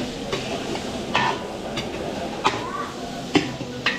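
Garlic and onion with pre-cooked pork belly sizzle and fry in a pan during catering cooking, a steady close crackle broken by occasional spatula scrapes and taps.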